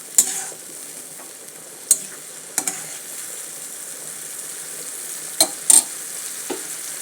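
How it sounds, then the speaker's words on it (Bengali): Spices and chili powder stir-fry in a pan with a quiet steady sizzle, broken by a handful of sharp scraping stirs and clinks of the spatula at irregular intervals, close by, no talking. "আমি একদম মশলাগুলো এর মধ্যে কষিয়ে দিয়ে দেব"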